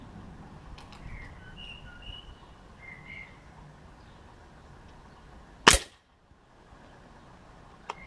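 A Magtech N2 Adventure air rifle of about 24 joules fires a JSB Exact pellet into a target, giving one sharp, loud crack and a brief thud in a quiet outdoor setting with faint birdsong.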